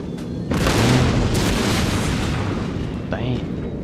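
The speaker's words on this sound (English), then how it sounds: "and here's some cannon shots" Cannon shots in the Napoleon Total War video game, deep booming reports over a continuous loud battle rumble, with a further blast near the end.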